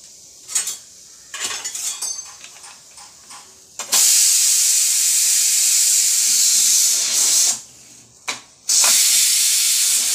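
Pressure cooker releasing steam after cooking dal in a home kitchen: a loud, steady hiss blasts for several seconds, cuts out briefly, then resumes, with a few clinks of utensils beforehand.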